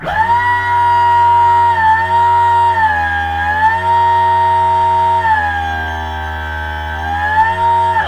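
An electric motor on a PV 24F NextGen controller gives a steady, loud tonal whine that rises and dips in pitch through a few gradual sweeps as it runs above base speed, with no one talking.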